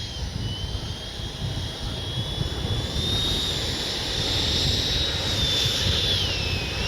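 A Freewing 90mm F-22 electric ducted-fan RC jet flies overhead, its steady whine sliding up and down in pitch over continuous wind and field noise.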